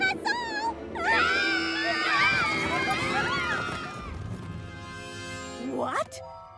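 Cartoon ponies scream in terror, a chorus of high wailing cries rising and falling over a loud crowd commotion, with another shrill cry sweeping up near the end.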